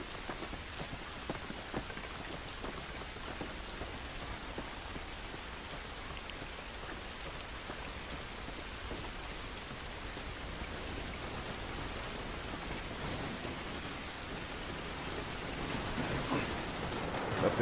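Rain falls outdoors in the video game The Last of Us Remastered, a steady, soft patter of drops with a faint low rumble, building slightly louder near the end, with no talk.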